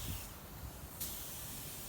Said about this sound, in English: just do a couple spray outs, make sure that the gun's spraying correctly and the air pressure is right